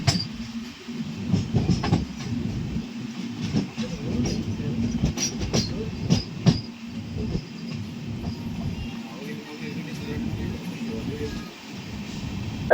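A passenger train runs along the rails through the Sahyadri hills between Murdeshwar and Dwaraka, a continuous rumbling clatter with wheel knocks rising and falling, heard from on board while a voice talks over it.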